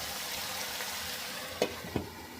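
Chicken sizzles steadily in a hot pan in Nepali-style frying, with two quick scraping stir strokes near the end standing out above the constant crackle.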